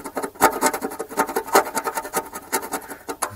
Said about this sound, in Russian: Будем песочить.